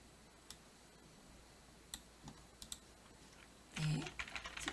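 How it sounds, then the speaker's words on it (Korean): Sparse, faint keyboard clicks break up a quiet room, a few isolated taps, then a short, denser burst of typing near the end. Korean text is being entered into a search box. "스크래치라고 한글로 입력을 할게요"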